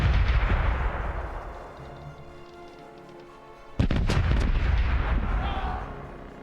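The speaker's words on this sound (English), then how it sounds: "Port side cannons are ready to fire!" A pirate ship's port-side cannons fire a broadside in the naval video game Corsairs Legacy, a sudden heavy boom bursting in after a quieter stretch of rumbling battle ambience, followed by lingering crackle and roar.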